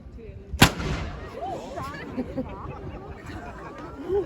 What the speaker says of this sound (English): almost every day at 1 o'clock, this cannon goes off.